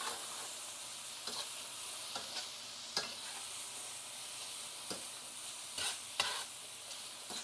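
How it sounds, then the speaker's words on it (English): A pan of caramelizing food for a cheesesteak sandwich is stirred, a steady sizzle running throughout with a handful of sharp scraping stir strokes spaced irregularly, fairly close and moderately loud. "as it's burning, caramelizing, we'll say it's caramelizing. Give it a stir."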